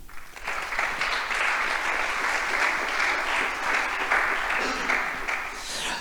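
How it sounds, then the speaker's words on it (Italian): An audience at an award ceremony applauds steadily, a sustained wash of clapping from many hands that holds at an even level throughout. "vorrei veramente fare un grandissimo applauso"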